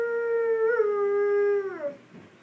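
A person imitates a wolf howl, holding one long, steady, tonal note at close range before it bends downward and trails off at the end.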